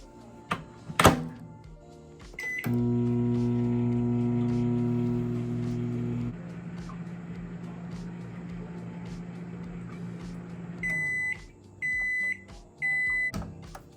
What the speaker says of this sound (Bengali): তো এবার আমি এটা মাইক্রো ওভেনে দেবো আমি এবার দেব ছ মিনিট